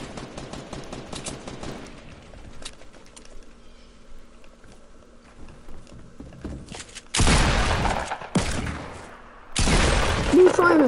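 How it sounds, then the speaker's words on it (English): SMG gunfire in Fortnite erupts in loud, rapid bursts, two dense volleys late in the stretch after quieter game sounds and softer scattered shots, with players talking earlier. "This is why we use the SMG, guys."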